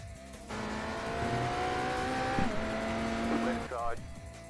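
LMP2 prototype race car in iRacing's Daytona 24 Hours sweeping past with a rising then falling engine whine over the player's own engine drone, while people talk over it.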